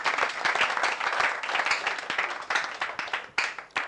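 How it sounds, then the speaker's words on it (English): An audience at an outdoor broadcast of a Nigerian talk programme breaks into applause, a dense run of sharp hand claps with irregular peaks that continues for several seconds, with faint voices beneath. "Make una clap for IG Liza."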